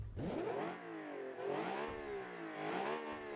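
A video game car engine in a sport luxury car revs hard and climbs to a high pitch, drops back, then revs up again in repeated rising sweeps, loud and close.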